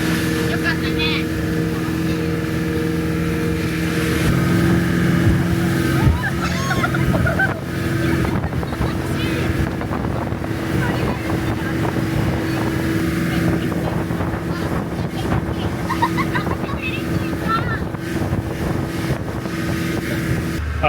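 A family boat ride on the water near Kyoto, with a motor droning steadily and wind buffeting the microphone throughout, while voices chat intermittently over the engine and rushing air.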